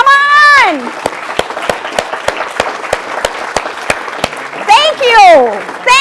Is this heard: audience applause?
yes